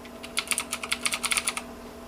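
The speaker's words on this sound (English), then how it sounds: "It almost makes you want to type faster to see how fast you can make the keys click." A short burst of fast typing on a Razer BlackWidow Ultimate mechanical keyboard, with a dozen or so sharp, close key clicks in quick succession before it stops.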